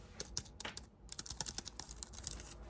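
Quick, light clicking of keys on a small keyboard, a rapid irregular patter with a brief pause near the start, close and quiet.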